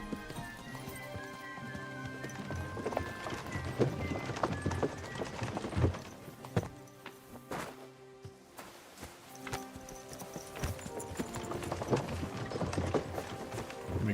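Horse hooves clip-clop steadily while riding in Kingdom Come: Deliverance II, a continuous rhythmic patter mixed with game music and ambient sound, no speech over it.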